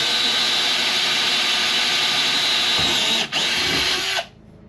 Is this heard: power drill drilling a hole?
yes